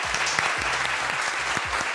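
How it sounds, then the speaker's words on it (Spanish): A crowd applauds steadily, a dense wash of clapping that holds at an even, moderate level throughout. "vamos a darle la bienvenida con un fuerte aplauso"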